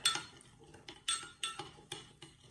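Pizza dough ingredients, sugar in liquid, stirred with a utensil in a bowl, giving a quick run of sharp clinks and taps roughly every half second, close and clear with no voices.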